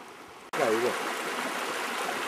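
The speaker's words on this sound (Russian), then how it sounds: "Тихо, хорошо, вода шумит." Continuous rushing water of a stream in Khao Nor Chu Chi, Thailand, fills the clip after a brief quieter start, with a short voice-like sound near the beginning.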